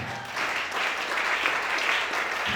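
An audience at a church service applauding for Chantal, a dense, steady burst of clapping from many hands filling the room throughout.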